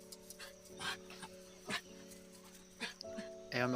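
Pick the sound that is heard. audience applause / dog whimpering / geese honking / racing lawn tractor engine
dog whimpering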